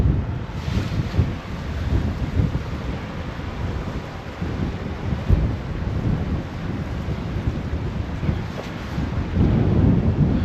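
A broad, steady roar of rushing water with low rumbling surges, loud and continuous, as a tidal bore wave breaks along the River Trent, mixed with wind buffeting.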